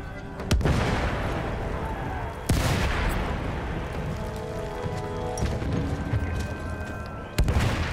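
Machine gun fire and heavy blasts crash out in the Battlefield 1 war game, loud sharp reports over a dense, continuous battle din, with a voice speaking at times.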